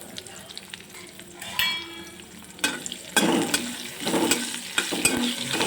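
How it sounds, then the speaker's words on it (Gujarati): Finely chopped hot green chilies sauté in a pan, a soft sizzle broken by louder bursts of stirring and spitting oil, close and without speech. "અમે તીખા લીલા મરચાં લીધા છે હવે પહેલાં આને હું સાતળી લઈશ"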